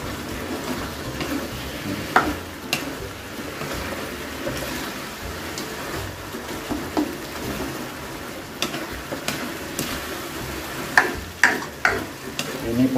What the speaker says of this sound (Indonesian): Kita aduk guys, biar merata.